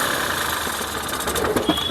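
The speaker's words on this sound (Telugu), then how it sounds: "ఇంజన్ యొక్క నాయిస్ చాలా సైలెంట్గా అయితే ఉందండి" A 2017 Mahindra TUV300 T8 runs with a quiet, even engine hum and faint rhythmic ticking, close by and heard alone for a couple of seconds.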